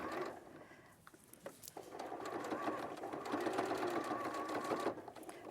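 A sewing machine stitches quilt fabric from the Riley Blake RHS Floral Gardens collection, a close, fast whirring run that builds after a brief pause and keeps going steadily.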